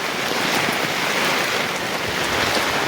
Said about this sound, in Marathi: पाऊस लागतोय त्यामुळे थोडा उभे आहेत कामगार.